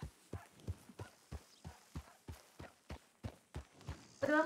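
Horse hooves clip-clop at a steady walking pace in the El Rancho roleplay video game, about a dozen sharp, evenly spaced strikes close up, with a brief brighter rustle or whinny-like sound at the end.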